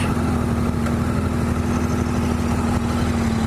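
A KTM 1290 Super Duke motorcycle idles steadily nearby, with a constant low, throbbing engine tone and no revving.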